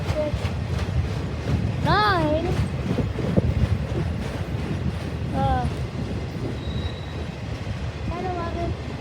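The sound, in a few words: long freight train passing with squealing wheels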